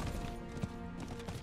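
Horse hooves clip-clopping in the Diablo 4 video game, a quiet steady trotting patter under a muffled game soundscape.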